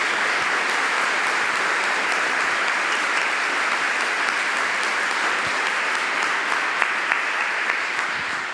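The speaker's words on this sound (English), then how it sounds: "I would just like to have a round of applause for John," An audience at a talk on belonging and othering in San Diego applauds for a speaker, sustained even clapping filling the room for several seconds, alone without speech.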